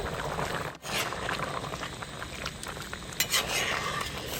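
Chicken masala gravy is stirred in a pan, a bubbling simmer under soft scraping and the clink of a spoon against metal, close and moderately loud with no voices.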